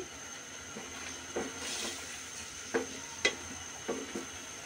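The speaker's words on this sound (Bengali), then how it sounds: "এবার দিয়ে দিব আমি রুই মাছের ডিম তেল একসাথে ভালো করে একটু মশলার সাথে মিক্স করে দিচ্ছি।" Rohu fish roe being stirred into hot spiced oil in a pan, a soft steady sizzle under several distinct scraping stirs of a spoon, close and moderately quiet.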